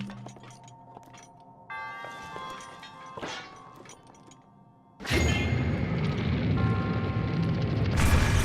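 A cannon in a Goron shrine trial in The Legend of Zelda: Breath of the Wild fires: quiet game ambience and chimes, then a sudden loud boom that swells into a sustained rumbling roar.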